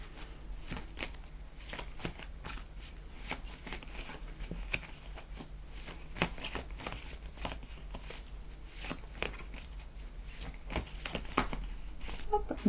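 Tarot cards are shuffled and drawn with soft, continuous riffling and patting, faint and close, with scattered light taps throughout and no talking.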